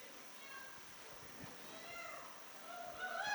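Voices in a lively institute audience imitate cats and dogs, with meow-like and animal-like cries rising over crowd chatter and growing louder toward the end.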